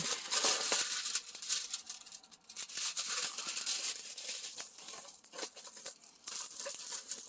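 Plastic film peeled off a diamond painting kit crinkles and crackles in bursts, close and fairly quiet, with brief pauses between the rustling handling sounds and no talking.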